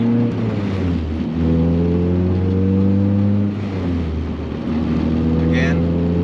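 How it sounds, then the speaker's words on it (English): A car's exhaust drones in fifth gear at 3000 RPM, a loud, steady low hum with a booming resonance that holds evenly, dipping slightly partway through. "So it's right at 3000 RPM, that's when the sound is really killing me."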